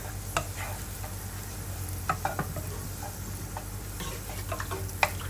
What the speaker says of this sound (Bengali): ডালটা আমি একটু নেড়ে দেই